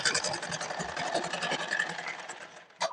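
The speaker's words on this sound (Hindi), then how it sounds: "तो इसका हम सिलाई पहले पूरा कर लेते हैं" A sewing machine stitching the sleeve seam of a blouse, running in a fast, steady, close mechanical whir for a few seconds before stopping with a brief clunk.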